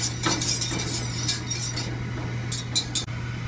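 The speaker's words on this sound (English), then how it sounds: "as with a lot of things on the stove, you want to stir occasionally so the starch does not settle out" A starch mixture stirred in a pot on the stove, a utensil clinking and scraping against the pot in several quick strokes over a steady low hum, with no talk.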